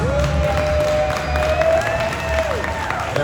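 An audience cheers and applauds a volunteer at a comedy card-trick show, with continuous close clapping and cheering and a sustained whistle-like tone riding over it that bends down at the end.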